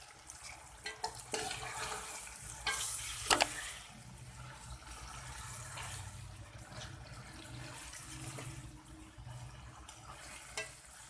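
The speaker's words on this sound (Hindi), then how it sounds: "और इसे अच्छे तरीके से भून लेंगे।" Chicken pieces being sautéed in a pan for chicken korma give a steady, moderate frying sizzle with scattered stirring scrapes and a brief louder clatter near the start, with no talking.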